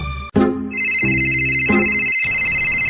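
A mobile phone ringtone starts abruptly after a short burst of music and rings steadily as a bright, repeating electronic tone. It is loud and close, with no talking.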